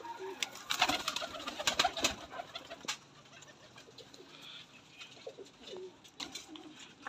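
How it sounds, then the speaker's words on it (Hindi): Dub wala pigeon from a breeder pair cooing close by, with soft repeated coos and some flutter and rustle over a faint background. "डब वाला कबूतर है ये।"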